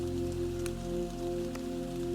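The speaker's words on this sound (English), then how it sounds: "Water drips down the leaves, the light rain kissing all it comes into contact with" Light rain dripping onto leaves in a fungi forest, a soft steady patter with a few sharper drops, faint and close under a constant low hum.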